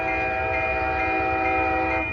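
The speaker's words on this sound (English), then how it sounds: "He gave me a horn show." An Amtrak Coast Starlight, train number 11, passes at 98th Avenue in Oakland, California, blowing a loud, sustained multi-chime horn over steady rail rumble, close by and without pause.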